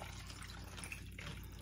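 Water poured into a cup packed with ice for a protein shake, a quiet steady trickle and splash running continuously close by.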